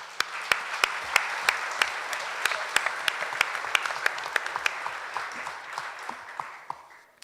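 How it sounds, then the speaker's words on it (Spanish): Applause at the closing of a regional forum on victims in Villavicencio: a crowd claps with sharp, distinct hand claps that stay strong at first, then gradually thin and fade. "También merecen un gran aplauso."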